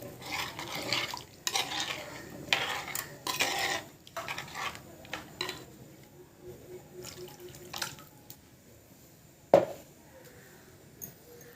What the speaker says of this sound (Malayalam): പാകത്തിന് കുറച്ചും കൂടെ വെള്ളം ഒഴിക്കുവാണ്.